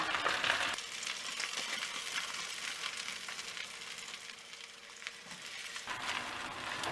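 Shellfish batter pancake (hoy tod) frying in hot oil, a soft, steady crackling sizzle heard close up and fairly quiet, with brief stirring or scraping touches and no voices.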